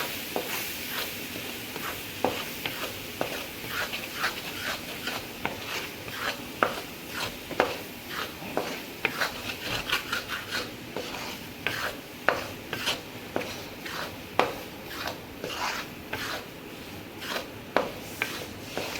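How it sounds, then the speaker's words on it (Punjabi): Gram flour and maida are mixed with a few spoonfuls of milk for sweet pedas, making a close, rhythmic scraping and rubbing as the spoon works the thick dough against the bowl. "ਹੁਣ ਆਪਾਂ ਇਹਨੂੰ ਚੰਗੀ ਤਰ੍ਹਾਂ ਮਿਕਸ ਕਰ ਲਈਏ"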